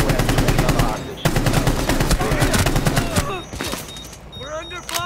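Rapid automatic gunfire from the video game Rainbow Six Siege rattles in dense loud bursts, then thins into scattered shots, with voices talking over the action.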